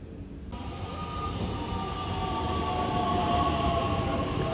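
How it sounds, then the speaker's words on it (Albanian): A train arrives at a station in Albania with a loud, continuous rolling rumble. Sustained metallic squealing tones ride over it and build steadily louder as it draws near. "Erdhi treni,"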